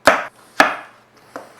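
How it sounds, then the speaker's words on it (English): Onions are finely chopped with a knife on a board, giving three crisp, close thuds spaced about half a second apart, with no talking. "So we're just going to chop these onions because we want them nice and fine."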